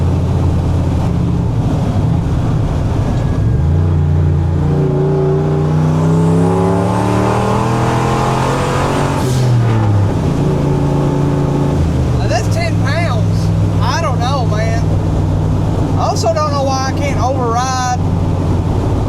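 The turbocharged 331 engine of a 1976 Ford F250 pulls hard, its loud growl climbing steeply in pitch, dropping, then climbing again, with high whistling chirps and wind buffeting over it.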